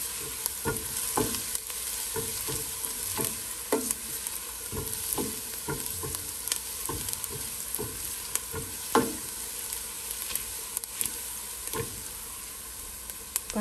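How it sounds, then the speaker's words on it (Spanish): Chopped onion fries in a pan for stuffed zucchini, giving a soft, steady sizzle with repeated scraping and tapping as it is stirred, with no one talking. "Vamos a procurar que esta cebolla no se nos queme."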